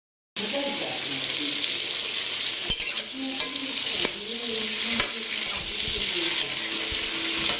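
Squash being stirred as it fries in a pan, steady sizzling with scraping utensil noises throughout after a short silent start.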